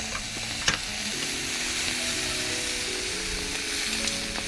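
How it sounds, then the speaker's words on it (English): Western rock lobster sears in a hot pan with a close, continuous sizzle, broken by a few brief clicks and scrapes and no speech. "Now I'm just going to quickly give it a quick sear."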